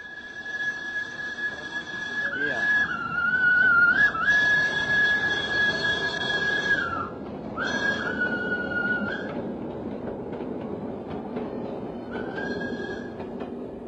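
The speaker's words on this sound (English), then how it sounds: "the steam tram bustled through this little Holland in the tropics" Steam tram running through the streets of Surabaya, its whistle sounding in long sustained blasts with brief breaks over a steady rumble of wheels and running gear, fairly near and alone.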